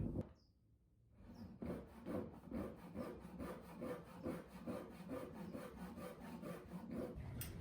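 A hand saw cuts through wood for a joinery piece, a steady rhythmic back-and-forth rasp of strokes running close and loud after a brief quiet start.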